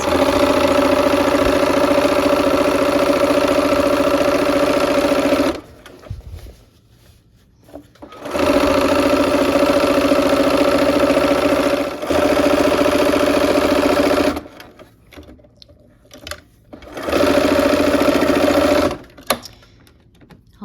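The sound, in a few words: sewing machine sewing gray quilt borders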